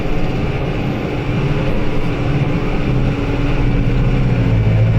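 A New Holland T5.140 tractor engine held at full throttle, a steady, loud, unbroken drone that stays close and constant throughout, with no speech.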